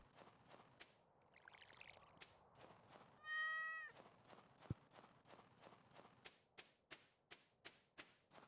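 A cat in a video game lets out a single clear meow mid-scene, while soft, evenly spaced footsteps and a brief pouring splash go on around it. The sounds are quiet throughout.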